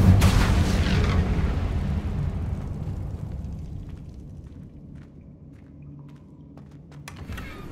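An Incendio fire spell goes off in Hogwarts Legacy, a loud fiery blast bursting at the start and rolling into a long crackling, fading rumble, with a few small pops near the end.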